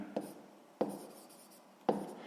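A pen scratches faintly across paper while working a sixth-grade maths exercise, with three soft taps as the tip meets the page and quiet writing between them.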